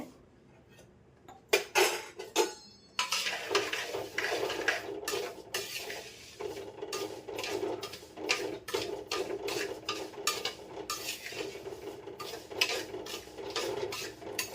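Samai and thinai millets dry-roasting together in a pan, with dense rattling scrapes and clinks of a metal spoon stirring the small grains, starting after a quiet moment and continuing close and steady.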